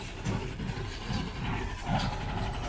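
Small tractor engine idling steadily at close range with a low, pulsing rumble, alone and without talk.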